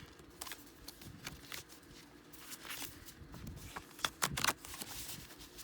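A deck of song cards being shuffled by hand gives a quiet run of papery rustles and flicks, with a cluster of sharper snaps near the end.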